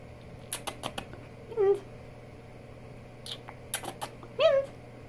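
A house cat gives a few short chattering meows, soft and close, separated by scattered light tapping and clicking sounds in a quiet room.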